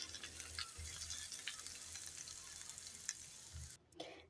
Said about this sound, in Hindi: और अब हम यहाँ इसके ऊपर तड़का डाल देते हैं।